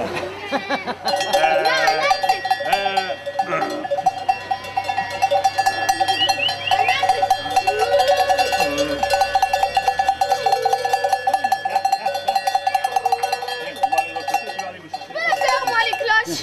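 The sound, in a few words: bells ringing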